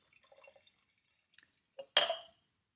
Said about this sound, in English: what I'm also going to do is I'm going to add a little bit of water